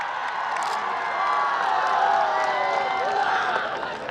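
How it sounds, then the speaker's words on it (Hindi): A large crowd at a rural political rally claps and cheers as a star singer arrives, a dense swelling roar of applause with shouting voices mixed in. "एक बार जोरदार उनके लिए भी ताली बजाइए"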